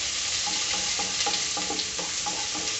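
Onion and dried chilies frying in a pan for a murungai keerai poriyal, with a steady close sizzle broken by soft scraping stir strokes every fraction of a second.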